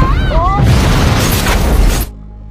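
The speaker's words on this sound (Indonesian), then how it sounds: "mobil itu meledak ketika istri manajer memaksa untuk keluar" A car explodes in a dramatized scene, a loud booming blast and rumbling burst that swells, holds, then cuts off abruptly after about two seconds, following brief tonal sounds at the start.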